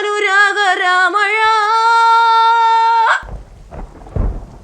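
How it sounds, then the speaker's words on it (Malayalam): A long sustained sung note cuts off abruptly, giving way to low rumbling thunder and the dense hiss of heavy rain. "ഭയങ്കര മഴ തന്നല്ലേ"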